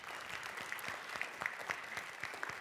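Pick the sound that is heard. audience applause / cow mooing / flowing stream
audience applause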